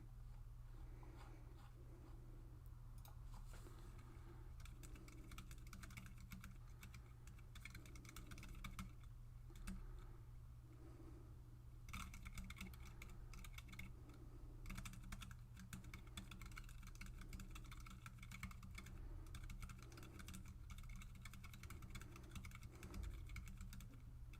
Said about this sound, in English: Let's try typing something.